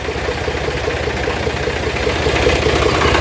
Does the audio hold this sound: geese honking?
no